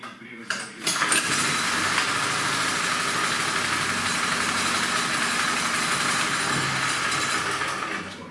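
A Huter DY2500L petrol generator engine catches after a short start and settles into a steady, loud, close running drone that holds to the end with no pause, and a voice is briefly heard at the start.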